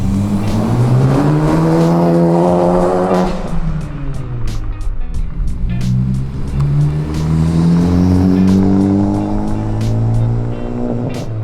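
A 10th-generation Honda Civic hatchback with a Greddy aftermarket exhaust revs up and settles back repeatedly, a loud, close, raspy exhaust note climbing and falling in pitch with a throaty drone between the pulls.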